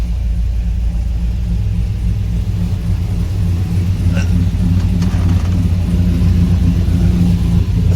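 A square-body Suburban fitted with a 5.3 V8 and a choppy cam, running steadily with a deep, loping rumble throughout, close and loud, with no one speaking.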